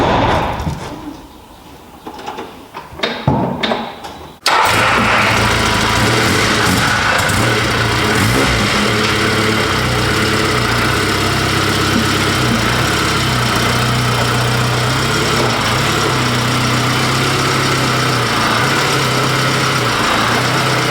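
The engine of a 1975 Land Rover Series 3 starts after a few seconds of quiet rustling, then runs at a steady, loud idle with a deep, rough rumble throughout.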